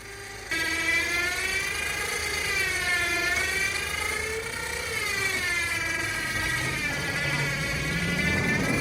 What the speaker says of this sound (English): This little golf cart and winch did surprisingly well at pulling out this big old truck.